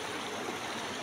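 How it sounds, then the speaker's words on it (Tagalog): A river flows and rushes in a steady, loud, close wash of water with no break, with no voices over it. "Ito yung ilog."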